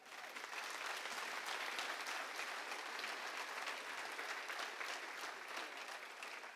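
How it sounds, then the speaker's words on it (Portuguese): Church congregation giving sustained, dense applause, an even roar of many hands clapping that holds steady throughout, heard from a distance and fairly faint. "Você pode dar um aplauso ao Senhor por isso?"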